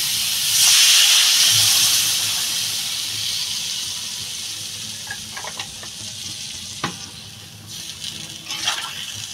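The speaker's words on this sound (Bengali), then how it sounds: "তরকারিটা বন্ধুরা আমার কষানো হয়ে গেছে, আমি এবার জল দিয়ে দেবো।" Water is poured into a hot, fried-down Bengali hilsa fish curry with potato and eggplant, setting off a loud steady sizzle and hiss of steam, with light stirring and utensil clinks following alone.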